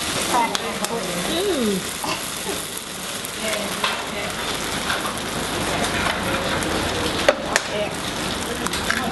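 Noodles and two eggs stir-fried together in a pan at a Thai cooking class, a steady dense sizzle with scraping from stirring, close and continuous, no talk over it.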